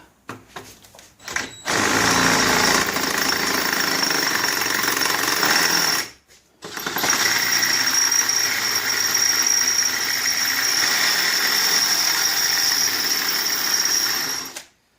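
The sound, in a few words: drilling out a hard bolt on Honda EM650 generator head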